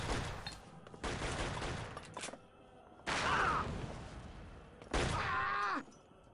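Gunfire in the shooter Shadow Ops: Red Mercury comes in several dense bursts of shots, loud and close, separated by brief lulls, with game effects mixed in.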